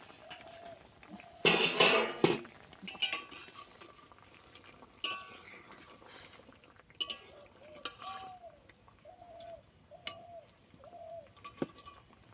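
Pot lid lifted and handled while elephant foot yam boils, a few clanks and scraping metal knocks amid faint cooking noise, with birds chirping repeatedly in the background; quiet overall.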